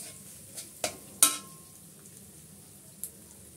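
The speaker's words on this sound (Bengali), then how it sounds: "এটা ভালো করে আমি একটু তেলের উপর ভেজে নিচ্ছি।" Mustard and coconut paste frying in oil, a soft low sizzle under a few sharp scrapes and clinks of a spoon against the pan, sparse and fairly quiet.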